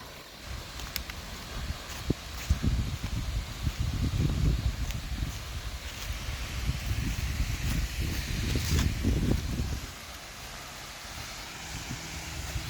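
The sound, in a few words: waterfall rushing water at night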